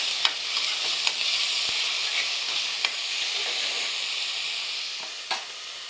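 Spices and vegetables fry in a pan for chicken masala, giving a steady, close sizzle broken by a few sharp clicks of stirring, with no talking.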